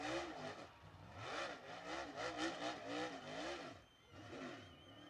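A dirt late model race car revs hard in repeated rising and falling surges while spinning a victory donut at All-Tech Raceway, loud and close with no voices.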